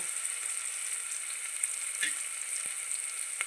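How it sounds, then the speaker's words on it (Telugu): Vegetables for a potato, cabbage and pea curry fry in oil in a pan, giving a steady, fairly faint hiss with a few small spits and pops, and no talking. "ఇవి వేగుతున్నాయి కదా"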